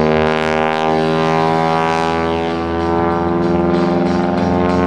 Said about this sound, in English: Rotating the airplane through 360 degrees of rotation and stopping it 4 distinct times